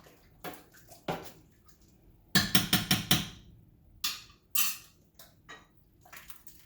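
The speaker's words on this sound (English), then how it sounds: "Give this a stir." Beanless chili being stirred in a pot, with scraping, knocking utensil clatters in irregular bursts, including a quick cluster of clinks, close and fairly quiet.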